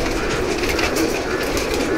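Pigeons in a loft of Banarasi and Turkish breeds, a dense steady murmur of cooing and rustling birds close by, continuous with no voices.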